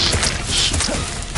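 Confringo spell cast in Hogwarts Legacy, a brief harsh burst with a whooshing crash and thuddy impact, loud and noisy, over in about a second and a half.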